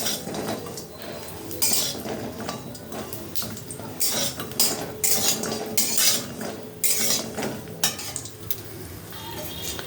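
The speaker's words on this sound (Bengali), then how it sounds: "এই যে বড়িটা লাল করে ভেজে নিই" A metal spatula scrapes and clinks against a wok in irregular bursts while lentil dumplings fry, oil sizzling softly underneath.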